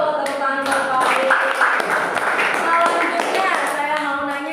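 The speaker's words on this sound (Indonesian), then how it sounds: "Tepuk tangan buat Faiz." Students in a classroom clap for a classmate after a correct answer, a steady patter of hand claps lasting throughout, with children's voices mixed in underneath.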